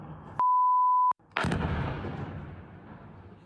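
A Molniya drone falling into a residential area and exploding near rubbish bins by an apartment block: a steady electronic beep cuts off, then a sudden loud blast decays into a long rumbling roar.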